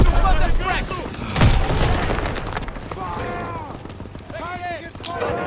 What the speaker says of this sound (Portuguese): Arremessando granada!